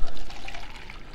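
Water being poured into a cup to mix with Geritol, a short close splashing trickle lasting about a second.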